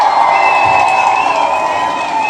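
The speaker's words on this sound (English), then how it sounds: "Let's give AOC a huge round of applause." A large crowd roars and cheers loudly, a sustained wall of shouting and whooping voices with only faint clapping mixed in.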